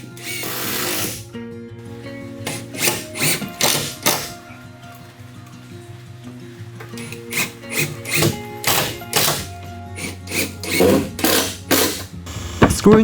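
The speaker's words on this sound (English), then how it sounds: "Screwing the riser is another struggle in the first step, since it's low." Screws driven into a wooden staircase riser at the low first step, with repeated short bursts of a power driver whirring and ratcheting, separated by pauses and handling noises.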